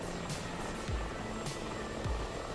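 A Mi-24 helicopter flying at speed in a racing tournament in a flight simulation video game, with a continuous close rotor drone and engine whine and a recurring beating pulse, alone with no talking.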